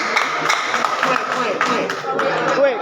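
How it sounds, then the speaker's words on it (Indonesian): An audience at a public debate in East Sumba claps in scattered, uneven applause, with voices chatting and chuckling over the clapping throughout. "Saya minta tepuk tangan untuk dari kita semua."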